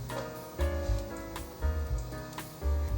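Cashews and shimeji mushrooms sizzle softly in a frying pan with a steady, quiet crackle, with no one talking.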